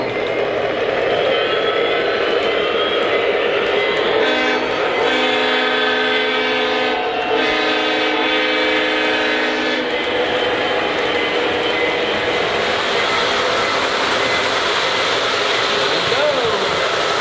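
Santa Fe model train running close by, a continuous bright mechanical whir with layered horn tones sounding twice in the middle, no talk over it.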